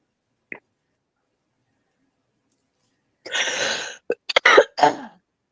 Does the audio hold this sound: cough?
yes